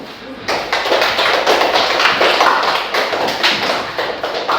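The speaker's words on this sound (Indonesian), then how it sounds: "Kita beri tepuk tangan dulu untuk kelompok 2" A classroom group claps for the second student group after its presentation, a close, loud burst of quick hand claps that begins after a brief pause and continues steadily with some voices mixed in.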